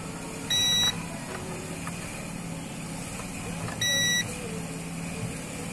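A repaired UPS unit sounds its alarm in two short, loud electronic beep bursts about three seconds apart, over a steady hum and low background noise.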